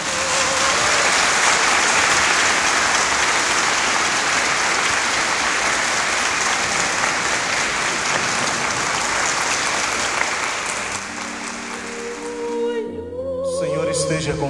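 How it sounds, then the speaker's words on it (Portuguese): A church congregation breaks into sustained applause at a golden wedding anniversary ceremony, steady and full for about ten seconds before fading as a voice and organ-like tones come in near the end. "Vamos aplaudir."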